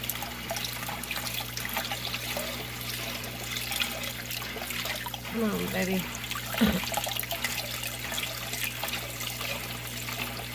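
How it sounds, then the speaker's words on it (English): Water pouring into an aquarium, a steady close trickling and splashing wash running throughout with brief gurgles midway, while a voice speaks briefly. "It's got enough water, but I'll put some more."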